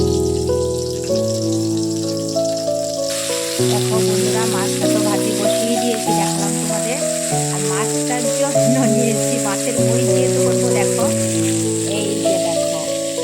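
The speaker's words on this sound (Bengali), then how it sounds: "এই দেখো কড়াইতে দিয়ে দিয়েছি মাছটা কড়াইটা বেশি গরম হয়ে গেছিল তাড়াতাড়ি করে মাছটা দিয়ে দিলাম" Rohu fish frying in an overheated wok, a continuous crackling sizzle beneath steady background music.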